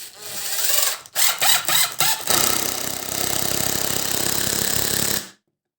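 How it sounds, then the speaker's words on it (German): A power screwdriver drives a screw into firewood in a woodworking workshop. The motor whirs loudly in a few short stuttering bursts, then runs in one steady, grinding drive for about three seconds before it stops abruptly. "und schraube mir das jetzt einfach grob"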